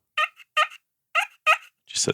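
A wooden box call plays a turkey hen call in four sharp, evenly spaced yelps, clear and close in a quiet setting, then a short rougher scratch at the end.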